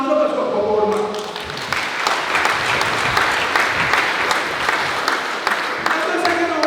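Congregation clapping steadily through a church sermon, a dense sustained patter of hands with voices and a sung or spoken tone threading through it, loud and close.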